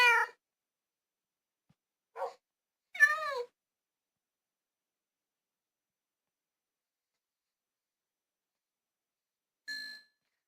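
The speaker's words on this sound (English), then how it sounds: "Let's get another ginger cat." Ginger cat in a video game giving a few short, separate meows, close and clear against silence, followed after a long gap by a soft chime.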